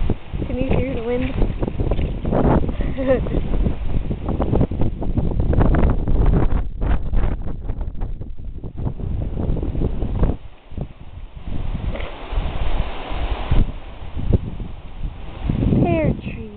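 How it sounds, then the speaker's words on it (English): Wind blowing hard across a yard, a steady loud rush with microphone buffeting and rustling, partly masked by someone talking for most of the stretch. "Can you hear the wind?"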